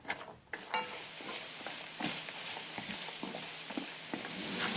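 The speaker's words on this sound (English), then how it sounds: "So you're just going to want to saute this until the vegetables are soft" Onion, carrots and celery sauté in a pan with a soft, steady sizzle, marked by occasional stirring scrapes and utensil taps, growing slightly louder toward the end.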